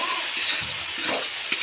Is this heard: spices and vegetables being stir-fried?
yes